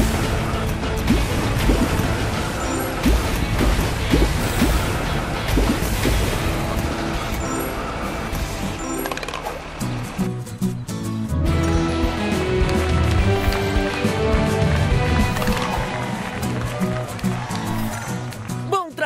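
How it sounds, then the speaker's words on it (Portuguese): A fire truck hose sprays water in a Paw Patrol game, a constant rushing hiss under busy game music and sound effects, loud and continuous, with a voice speaking over part of it. "Então aperte e segure para atirar a água."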